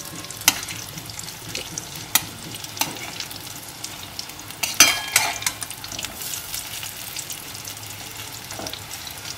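Pointed gourd slices fry in a pan with a moderate, continuous sizzle, punctuated by sharp crackles and a few spatula knocks and scrapes as the pieces are turned.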